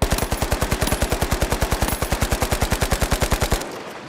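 Sustained automatic gunfire in The Finals video game, a rapid, steady, loud burst of evenly spaced shots lasting several seconds before cutting off abruptly.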